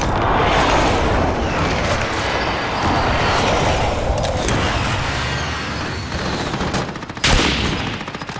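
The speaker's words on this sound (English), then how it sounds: "Be advised, friendly precision airstrike inbound." Rapid, dense barrage of video-game precision airstrike explosions, a continuous loud rumble of blasts with one sharper crack near the end.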